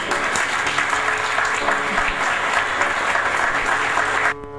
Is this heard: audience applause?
yes